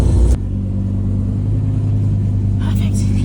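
A car in Corsa mode with its exhaust valves open and paddle-shifted gears gives a deep, steady engine rumble close by, with a brief burst of talk over the start and end.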